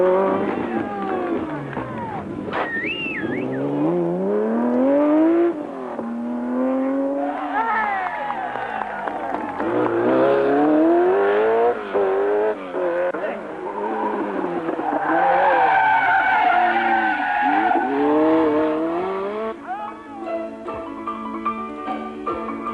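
Renault 5 Turbo rally car driving hard and skidding through a stage, engine note rising and falling in long sweeps with tire noise, loud and continuous from start to finish, with narration over the top.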